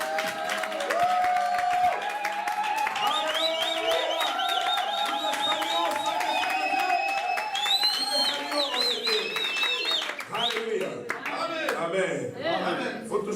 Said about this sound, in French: Acclamons encore la présence du Saint-Esprit.